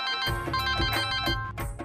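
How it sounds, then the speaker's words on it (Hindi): A telephone rings with an incoming call in a repeating electronic melodic ringtone pattern, moderately loud and close, with no voices over it. "अरे भाई तानिया का फोन आ रहा था"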